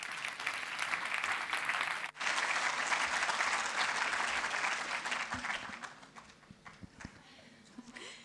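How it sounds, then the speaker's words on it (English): Warm applause from an awards ceremony audience swells and holds for several seconds after a brief cut, then thins into scattered claps as a speaker begins. "So I would like to give them a warm round of applause and welcome them to the stage"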